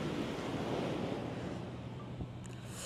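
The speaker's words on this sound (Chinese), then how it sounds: "这边海浪好大呀！" Big ocean waves crash and wash onto the shore at Sanya, a loud, close roar of surf with gusty wind buffeting the microphone.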